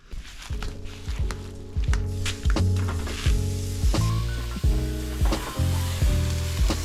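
Thick meat sizzling on a Weber grill with a steady hiss, punctuated by repeated sharp clicks and taps of tongs or utensils at close range.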